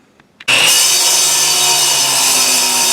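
A power saw cutting 2x2 quarter-inch-thick steel stock starts abruptly after a brief near-silence, then grinds through the metal with a loud, continuous, high-pitched whine.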